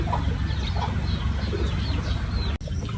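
Racing pigeons coming down to the loft during a derby, with scattered soft coos and bird calls over a steady low rumble, then a sharp brief click near the end.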